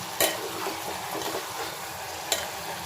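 Mutton with onions and turmeric sizzles and fries in a pan, a soft continuous crackle with two sharp clinks of a utensil stirring against the pot.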